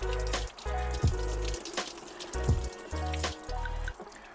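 Liquid pouring and trickling into a MerCruiser 3.0 engine during winterizing, in several separate gushing pulses with short pauses between, close and fairly loud.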